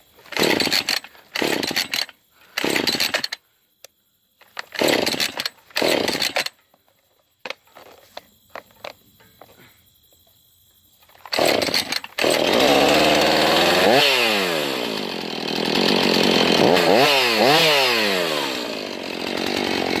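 Chainsaw being started: several short rough pull-start bursts with pauses, then the engine catches and runs loudly and steadily, revving up and down twice.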